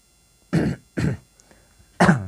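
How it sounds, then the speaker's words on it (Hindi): Three harsh coughs close up, two in quick succession and a third after a short pause. "खांसी हो गया।"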